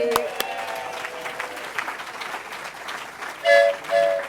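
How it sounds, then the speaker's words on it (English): Audience at a Citizen of the Year 2005 event clapping and cheering, a dense patter of applause under a mix of voices, with louder shouts near the end. "Cheer for Amtrak Steve."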